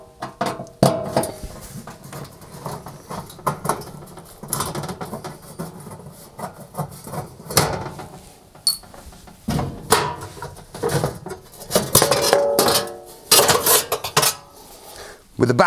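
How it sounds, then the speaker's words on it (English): Screws are undone and the metal back panel of a Rangemaster oven is worked loose, producing repeated close metallic clanks, rattles and scrapes at an irregular pace. "I just need to remove that by undoing the 4 screws that hold it in place"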